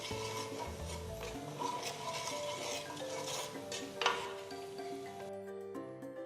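Onions seasoned with salt, pepper and cumin stirred in a pan, a steady scraping and rubbing of a utensil against the metal with faint sizzling, continuous and close, ending with a brief clink.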